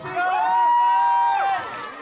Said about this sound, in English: So you hear the crowd trying to get behind these Altamont Longhorns